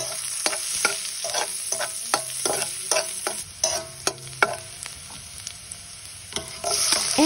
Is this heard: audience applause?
no